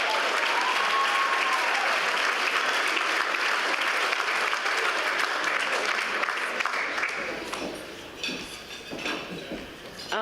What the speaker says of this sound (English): Round of applause for both Lilies.